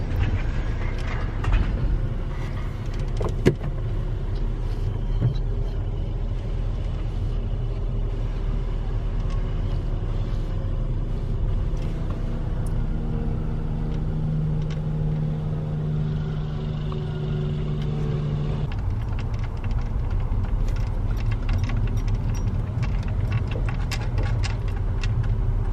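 Steady low rumble of road and engine noise inside a moving car, with faint rattles and a tonal hum drifting through, continuous and fairly loud with no talking.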